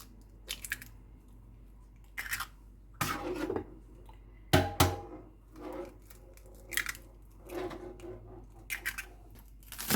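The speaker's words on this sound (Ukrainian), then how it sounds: "Вбиваю два яйця." Two eggs are cracked into a bowl of grated zucchini and hard cheese, a handful of sharp crunchy cracks and squishy taps spaced across a quiet kitchen, close and fairly faint.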